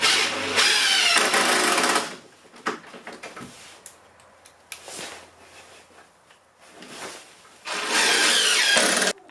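A power drill drives screws into pocket holes in wood during a water heater hookup, sounding in two loud whirring bursts at the start and end, with quieter knocks and handling between.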